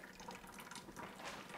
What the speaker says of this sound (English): So, we have a lot of water coming down.